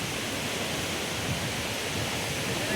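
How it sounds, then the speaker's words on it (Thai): Tad Tayicseua waterfall near Pakse in Champasak, Laos, rushing in a steady, even broadband roar heard from a distance, with no voices. "ว้าวมองลุมก็เป็นน้ำตกตาด"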